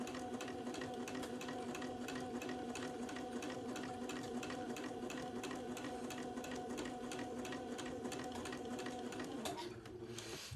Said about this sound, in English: So I'm sewing fairly slow right here.